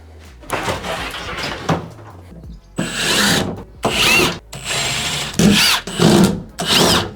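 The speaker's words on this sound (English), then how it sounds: "You can go ahead and remove all of these screws, and then this whole panel will come out" A power tool drives screws out of an interior panel of a van being stripped, giving several short whirring bursts separated by brief pauses, close and fairly loud.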